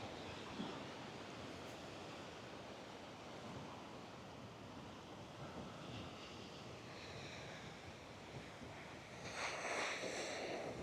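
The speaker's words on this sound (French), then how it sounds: "la mer qui écume et qui bat les rochers" Sea surf foams and breaks against coastal rocks in a continuous wash of distant, fairly faint roar, with wind buffeting the microphone and a slight swell near the end.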